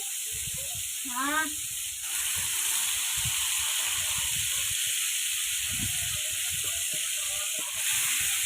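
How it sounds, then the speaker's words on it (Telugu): Chicken leg pieces frying in hot oil give a steady, close sizzle and hiss throughout, with a voice talking over it near the start. "ఆయిల్ హీట్ ఎక్కిన తర్వాత ఒక్కొక్క పీస్ తీసి మనం అట్లా అనేది కాల్చుకోవాలి, ఆయిల్లో అనేది వేయాలి"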